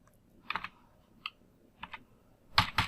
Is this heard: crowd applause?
no